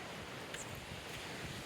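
Waves washing on a seashore, a steady soft roar of surf with wind noise, faint and continuous with no talk.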